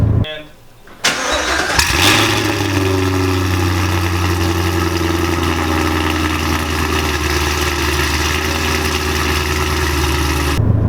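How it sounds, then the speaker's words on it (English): A 2016 Chevrolet Camaro SS V8 engine cranks on a cold start and fires after a brief pause, then settles into a loud, rumbling, steady idle with deep exhaust burble, close by. "It's really loud, y'all. Especially on a cold start."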